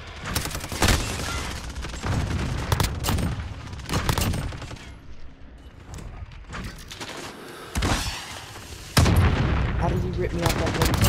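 Rapid gunfire from a video game match on the Shipment map with a PP90M1, loud bursts cutting in and out across the clip, with a heavy volley near the end and a player talking excitedly over it.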